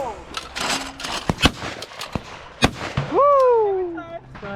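At an outdoor trap field, shotguns including a custom Remington 1100 go off in several sharp, irregular bangs, some close and some farther away. A voice shouts and cheers between the shots.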